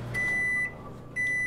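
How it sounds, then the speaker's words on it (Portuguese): A virtual microwave oven in a kitchen simulation game beeps twice: two clear, sustained electronic tones separated by a short gap, up close over a faint low hum. "Micro-ondas?"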